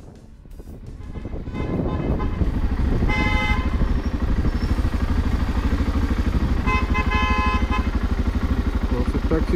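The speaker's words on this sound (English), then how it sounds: "taxis are hooting to advertise for passengers." Minibus taxis hoot their horns in busy Pretoria traffic around Hatfield, heard as repeated honks over a loud, steady roar of engines and street noise.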